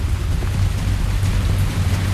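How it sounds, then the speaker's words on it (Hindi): Continuous heavy rain over Delhi, a loud, dense roar of drops hitting surfaces with deep low rumble, steady and unbroken throughout with no voices. "लगातार बारिश"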